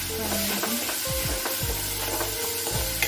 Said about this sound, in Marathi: व्यवस्थित तेलात फ्राय करून घ्यायचे सगळं. आणि आता आपण जी पेस्ट केली ती टाकूया.